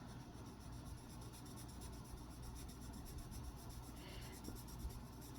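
Soft, steady scratching of a Caran d'Ache Luminance colored pencil rubbing across the tooth of the paper. It is close and quiet, continuous, with no voices.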